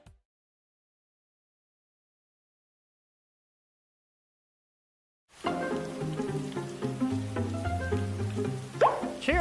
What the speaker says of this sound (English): This rain will be out soon.